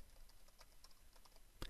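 A computer keyboard is used to type a file name in an Adobe Acrobat job-definition window. Light, quiet keystrokes patter in an irregular rhythm, ending with one sharper, louder key press.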